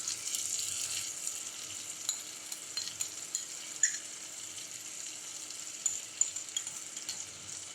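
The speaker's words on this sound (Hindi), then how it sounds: "दही का सारा पानी सूखने तक कबाबों को अलट पलट करते हुए फ्राई कर लेंगे।" Steady, hissing sizzle of chicken kebabs with a yogurt mixture frying on a hot tawa griddle, with occasional soft clicks and scrapes of turning, no voices.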